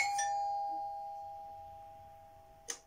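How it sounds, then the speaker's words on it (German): Doorbell at a front door: a bright chime rings at the start and slowly decays, then a second short ding strikes near the end, fairly close in a quiet room. "in dem Moment klingelt es an deiner Tür"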